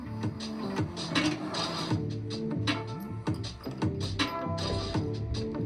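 Corner bolts being fitted and tightened, sounding as repeated mechanical ratcheting and clicking strokes in quick bursts, close and fairly loud, with a steady metallic whir underneath and no talking.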